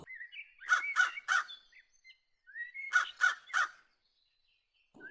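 A cartoon crow caws loudly in two groups of three harsh calls with a pause between them, sharp and close with no talk.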